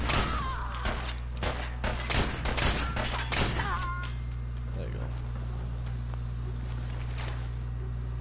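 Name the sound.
gunshots in the video game Fallout 4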